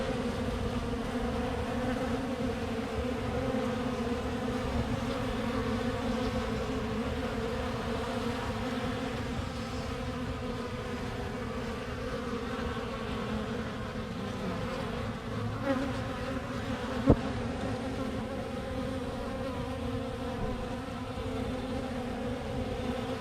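Honeybees swarm densely around a hive box, a loud, continuous, close buzzing hum with no letup, plus a single sharp click partway through.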